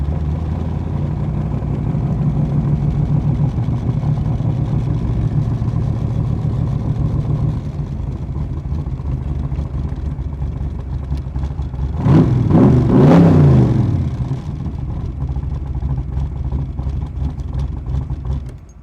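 A 1966 Shelby Cobra 427 V8 held in second gear, a steady loud rumbling drone throughout with a brief swell of throttle and rising roar midway, no talk over it.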